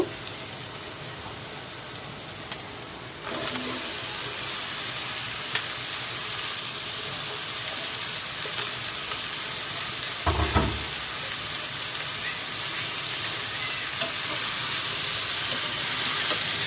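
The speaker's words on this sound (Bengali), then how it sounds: "এবারে আমি লাউ দিয়ে দিব" Bottle gourd dropped into a hot pan sets off a sudden loud burst of frying that settles into a steady, dense hiss, with one brief low thump of a utensil partway through.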